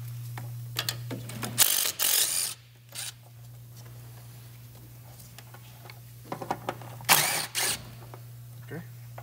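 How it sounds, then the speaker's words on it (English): A ratchet wrench works on the bolts holding a wiring harness on a Hyundai Tucson, quick clicking bursts up close, separated by stretches of quieter background hum, with someone talking in places. "So I'm just gonna remove that two bolts that's holding the harness."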